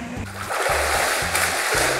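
A free-flowing river at a campsite in Orani, Bataan, rushing steadily and loudly as a dense, continuous wash of water, with a low, regularly pulsing rumble underneath.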